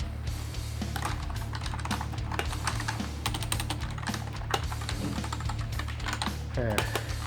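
Rapid clicky keystrokes on a SIGNO E-Sport Pegasus KB-739 semi-mechanical gaming keyboard, steady and continuous throughout, close to the mic over a low background hum.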